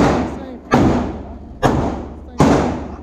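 Three loud gunshots ring out at an indoor shooting range, spaced under a second apart, each a sharp close blast followed by a reverberant decay.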